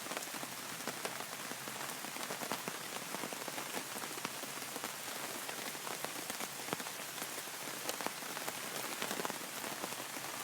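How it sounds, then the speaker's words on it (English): Steady rain pattering on tarps, dense and continuous with scattered louder drops, no voices, at Red River Gorge. "it's still raining"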